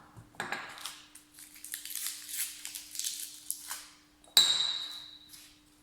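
Glass clinks and scraping as sugar is stirred into water in a glass Erlenmeyer flask: a series of light taps and rattles, then one sharp ringing ping near the end, close and clear.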